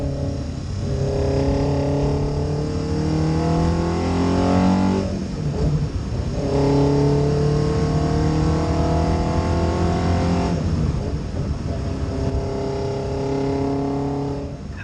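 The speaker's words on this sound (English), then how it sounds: "I'm gonna play a little bit of the engine noise" A car engine pulls strongly through successive gears, each rising rev climb broken by a brief dip at the shift, loud and close with no talk.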